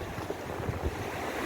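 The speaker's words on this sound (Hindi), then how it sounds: "सागर की आवाज़, लहरों की आवाज़ सुन रहे होंगे।" Sea waves at Bekal beach in Kasaragod, a steady low wash of surf mixed with wind rumble on the microphone, faint and continuous without distinct breaks.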